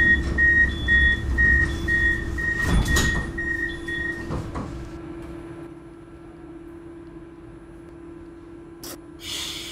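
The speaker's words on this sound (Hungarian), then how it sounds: "Please stand clear of the closing doors." Doors of an M3 metro train close in the OpenBVE train simulator game: a repeated two-tone warning beep, then a clunk and slide as the doors shut, followed by a quieter hum and a short thud.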